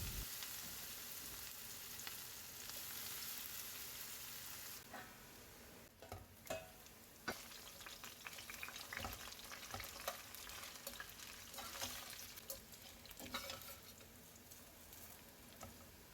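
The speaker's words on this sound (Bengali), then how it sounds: "এখন একটি কড়াই গরম করে তেল গরম করে সব ফুলকপিগুলো ভেজে নেব।" Marinated cauliflower florets fry in hot oil in a wok for Gobi Manchurian, giving a steady dense sizzle with occasional stirring clinks and scrapes throughout, no voices.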